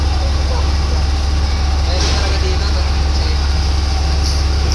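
A truck engine drones steadily with a low hum at a rainy, stormy construction site while concrete mixture is prepared. Background noise stays constant throughout, with a few faint sounds of activity.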